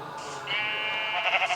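A sheep in a video game bleats once, a drawn-out wavering baa lasting over a second, clear and close with no other sound around it.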